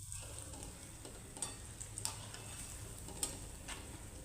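Mumbai-style batata vada frying in hot oil: a faint, steady sizzle with soft crackles, a few small pops standing out now and then.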